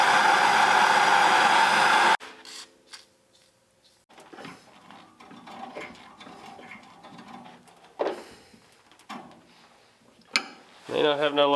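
Heat applied to a stuck line fitting on a 1967 Chevrolet C10 pickup: a loud, steady roaring hiss for about two seconds cuts off abruptly, followed by quieter clanks and people talking.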